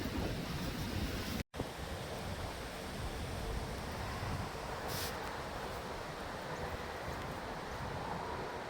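Steady wind and lapping water fill an outdoor cemetery scene with constant broadband rushing noise, broken by one brief dropout and no speech.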